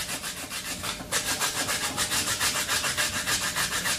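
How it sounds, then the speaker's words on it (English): A carrot is grated on a hand grater in quick, even rasping strokes, roughly five per second, close and clear with no talk over it. "So I'm grating the carrot"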